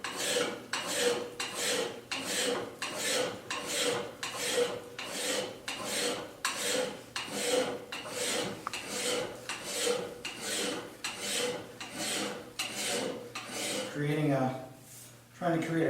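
A steel axe blade being sharpened with sandpaper on a drywall pad to form a convex grind: steady, rhythmic rasping strokes, close and loud, about two per second, with a brief pause near the end.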